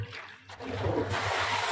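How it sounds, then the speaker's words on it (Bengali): Water gushes out in a steady, noisy rush over the low motor hum of a 3-horsepower irrigation pump in a field, growing louder and continuing without pause. "এই যে পানি এখান থেকে বাইরে হচ্ছে।"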